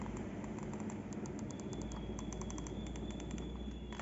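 Clicky replacement buttons on a modded DualSense controller with an ExtremeRate kit, pressed in a steady string of sharp, mouse-like clicks over a low background hum, close and fairly quiet.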